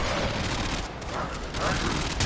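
Dense rifle gunfire in a shooter video game, a loud continuous burst of rapid shots with booming texture filling the whole moment, with voices talking over it.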